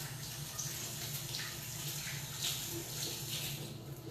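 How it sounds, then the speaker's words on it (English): A kitchen tap runs steadily as hands are rinsed beneath it, a faint, continuous splashing rush with small shifts as the hands move through the stream. "let me rinse my hands off"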